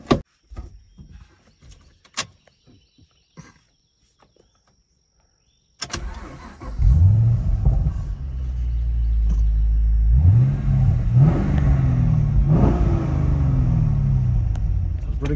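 A 2011 Chevrolet SS Camaro sits quiet amid scattered clicks, then its engine cranks and catches near six seconds and settles into a loud, deep idle, with several throttle blips rising and falling through the rest.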